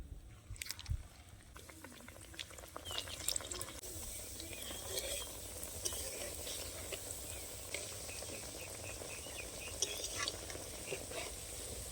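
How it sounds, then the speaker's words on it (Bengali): Jilapi pitha fry in hot oil, a continuous close sizzle with crackles and faint clinks, steady throughout. "এখন বাকি পিঠেগুলো ভেজে নেব"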